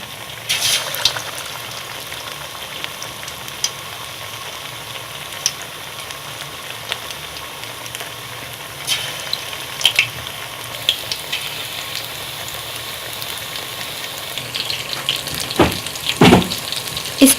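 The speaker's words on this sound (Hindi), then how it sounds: "इसको हम फ्राई करेंगे जब तक ये लाइट ब्राउन ना हो जाए।" Battered chicken pakora pieces sizzle steadily in hot ghee, a constant crackling hiss with occasional scrapes and clinks of a spoon that grow busier near the end, with no talking.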